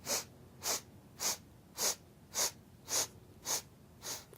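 Eight short, quick sniffs of breath during a yoga breathing exercise, in a steady rhythm, roughly twice a second, close and fairly soft, with nothing else around them.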